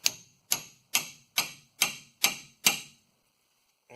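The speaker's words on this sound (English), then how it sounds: "this rotor is really fighting me. So I think we'll pound a little big chisel right here." Seven sharp metallic hammer blows strike a chisel against a stuck rotor on a 2008 Ford F-150 rear axle, evenly spaced about half a second apart, close and loud, then stillness.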